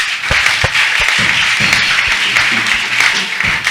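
A church congregation applauds steadily and loudly, a dense wash of clapping with occasional sharper claps standing out, no clear voices over it.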